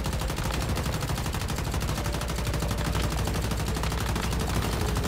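Continuous rapid gunfire from the video game Once Human while shooting a boss in Silo Phi, a dense, unbroken machine-gun rattle throughout.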